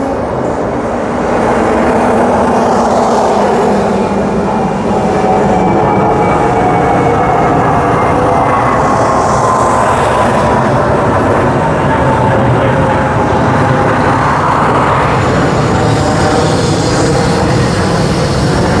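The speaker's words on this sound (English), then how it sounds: "We have that train now going to Cockburn." A loud train departing a station on the Thornlie-Cockburn line rumbles steadily past nearby, its drone and rising mechanical tones sustained throughout without any talking.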